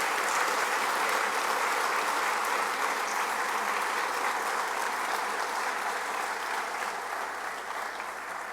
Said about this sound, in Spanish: Por favor, doña Eugenia, fuerte aplauso.